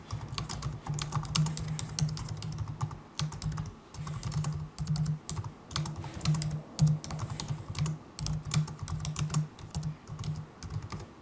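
Steady typing on a computer keyboard sounds close and continuous, a rapid run of keystroke clicks in short bursts with brief pauses; no one speaks.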